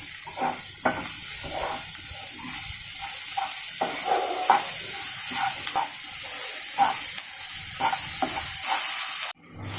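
Chilli powder, coriander powder and salt fry in a pan for a bitter gourd curry. The sizzle is low and steady, with faint stirring scrapes now and then and no voices.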